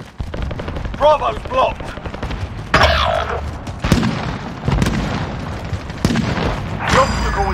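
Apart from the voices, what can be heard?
gunfire and explosions in video game Call of Duty Warzone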